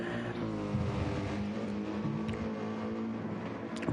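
Mercedes car engine in a racing video game, a steady, meaty droning tone with layered harmonics held at a constant pitch, continuous and fairly loud throughout.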